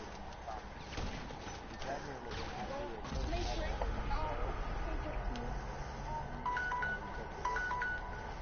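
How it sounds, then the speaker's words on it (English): A phone rings across a room during a PS4 game livestream: faint repeated electronic tone bursts near the end, under a steady background of game sound and voices. "that ringtone I can hear across the room"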